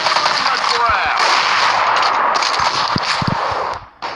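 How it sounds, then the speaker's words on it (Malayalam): Gunfire in a mobile shooting game played on a tablet, loud rapid bursts of shots with sharp repeated cracks and game effects, no talk over it. "അപ്പുറത്തൊന്ന് വെടിവെക്കുന്നുണ്ട്"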